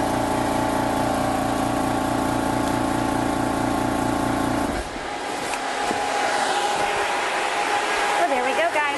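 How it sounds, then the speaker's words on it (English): An Air Venturi personal HPA compressor filling a 100 cubic inch air tank runs with a steady, loud mechanical drone, then its tone shifts abruptly about halfway through into a thinner hiss and rattle. "So turn the compressor off."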